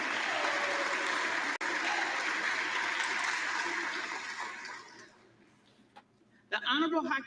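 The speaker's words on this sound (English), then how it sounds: "But they just all stood up and clapped." House members clap together in a loud, sustained round of applause at a speaker election session. The clapping fades out after about five seconds, and a brief burst of noise follows near the end.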